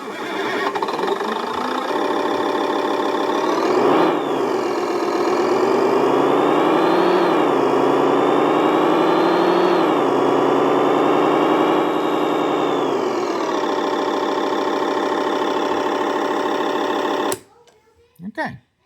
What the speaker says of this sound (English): you can hear it now sounds like a dump truck instead of a front loader